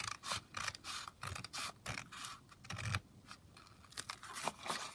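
Scissors cut through a paper collage sheet in a series of close, crisp snips and crunchy slices, repeated in a quick irregular rhythm with short pauses between cuts.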